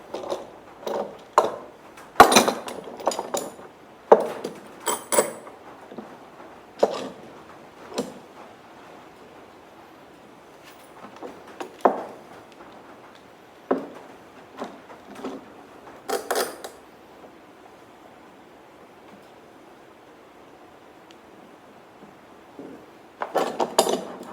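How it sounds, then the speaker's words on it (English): Metal clamps are set into position while a flame maple top is glued onto a mahogany electric guitar body: scattered close clanks, clinks and wooden knocks in irregular bursts, with quiet pauses between and no talking. "I'm not torquing these clamps down. I'm just getting them kind of set up where they're in position"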